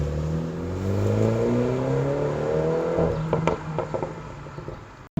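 A car engine revs and accelerates with rising harmonic tones, then settles into a lower whir with a few sharp clicks, loud and close with no voices.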